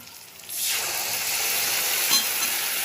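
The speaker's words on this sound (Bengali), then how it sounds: "এখন আমি এই পেস্টটা এর মধ্যে দিয়ে দেবো" Spice paste dropped into hot oil with fried pointed gourd bursts into a loud, steady sizzle that starts abruptly and keeps hissing close up, with no talking.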